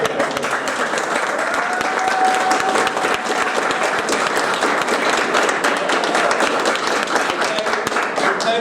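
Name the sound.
audience applause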